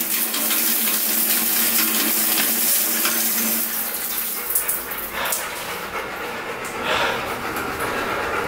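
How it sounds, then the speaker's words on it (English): Strong hot shower running in a condo bathroom, a steady broadband hiss of spraying water that stays loud and close throughout with slight surges, no talking. "a good strong shower"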